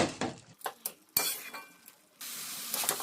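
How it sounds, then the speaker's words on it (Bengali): Chopped kalai greens frying in a pan with potato, a spatula clinking and scraping in a few quick stirs, then a steady close sizzle. "মাঝখানে একবার নাড়িয়ে চাড়িয়ে দিলাম।"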